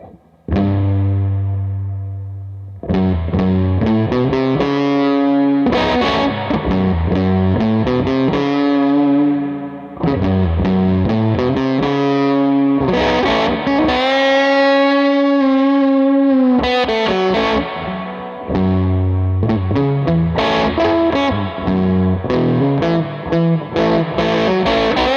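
Electric guitar played through a Swollen Pickle fuzz pedal, producing thick, sustained distorted chords and riffs with bright harmonic overtones, loud and continuous throughout with short pauses between phrases and no talking.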